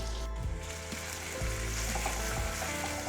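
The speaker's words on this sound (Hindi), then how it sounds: "ले लिया मैंने 1 टेबलस्पून ऑयल, डाल देंगे 1 टीस्पून गार्लिक" Garlic and ginger sizzle steadily in a tablespoon of hot oil for hot and sour soup, a dense continuous frying hiss with a few low knocks of a spatula stirring the pan.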